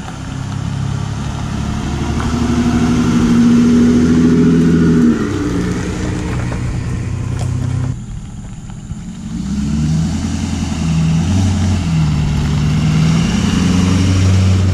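A car engine on a road trip to Moab revs loudly and steadily, its pitch rising and settling. It drops back briefly about halfway through, then builds again.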